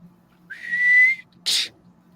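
A person imitates a whistle with their voice, a clear rising then steady tone lasting under a second, followed by a short breathy whoosh like a whip crack, close and loud over a faint hum.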